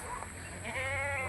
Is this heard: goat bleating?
yes